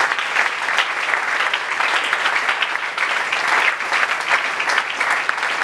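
A church congregation claps and cheers in acclaim, a dense, sustained wave of applause filling the room for several seconds without letup, with scattered voices blended in.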